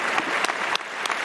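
Studio audience applause on a Ramadan Islamic quiz show, dense loud clapping with a few sharper bursts, no voices over it.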